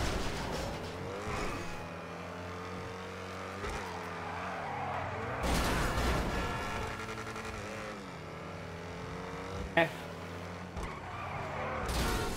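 GTA V XA-21 supercar drifting, engine revving through gear changes with tires skidding and squealing, close and continuous, with a sharp thump near the end.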